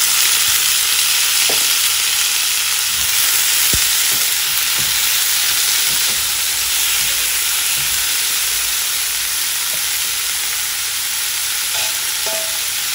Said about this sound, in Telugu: ఉల్లిపాయలు కొద్దిగా వేగాక 2 టమాటాలని ఇలా ముక్కలు కోసి వేసుకోవాలి.